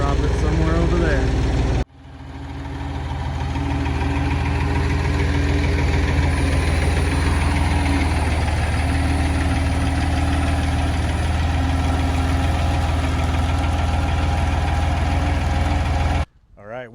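A tractor engine runs at a steady, loud idle for most of the stretch while lifting a Dana 44 axle outdoors, cutting in abruptly after a short opening noise and stopping sharply near the end, with no talk.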